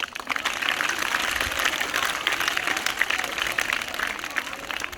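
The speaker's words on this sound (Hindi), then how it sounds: "जिन लोगों ने आज ऊपर आके परफॉर्मेंस दिया, वो उनके लिए एक बारी प्लीज़ ज़ोर से तालियां मार दीजिए।" An audience claps steadily for performers at a village event honoring a beauty pageant winner, a dense, continuous round of applause with crowd murmur throughout.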